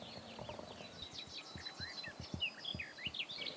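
Birds chirping and trilling on a Carpathian hillside in a series of short, bright calls over a quiet background, with soft low pulses of activity underneath and insects buzzing faintly.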